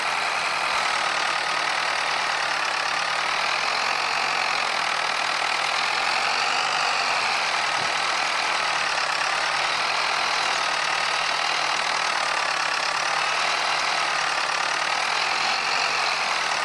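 Small tractor engine idling steadily with a continuous, unchanging mechanical drone and a slight wavering hum, close up and alone without talk.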